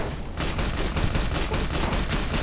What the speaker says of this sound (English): Whoa, that was a good shot.